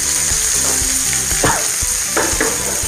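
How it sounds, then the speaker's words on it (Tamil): Chopped onions go into hot oil already holding garlic, curry leaves and dried red chilies while paneer bhurji is being cooked. There is a steady loud sizzle close by, with a few brief stirring scrapes. "ஃபைனலாக நம்ம கட் பண்ணி வச்சுருக்கிற வெங்காயத்தை இதில் ஆட் பண்ண போகிறோம்"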